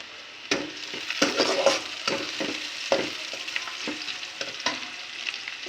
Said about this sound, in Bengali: তো বন্ধুরা, এখন আমি এর ভেতরে 2টা তেজপাতা দিয়ে নিলাম।